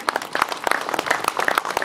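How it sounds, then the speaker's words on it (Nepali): Applause from an audience at a poetry book launch event, a dense burst of quick overlapping claps, close and fairly loud. "सबैले जोरदार ताली"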